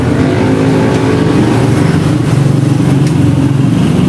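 A Yamaha Aerox scooter engine, the first version, idles and runs steadily up close. The loud engine drone holds a continuous low rumble the whole time.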